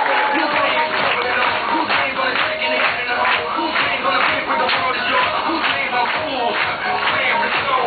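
Audience applause at a product presentation and testimonial event in Cebu, a steady, loud wash of clapping from a crowd that carries through the whole stretch with murmuring underneath.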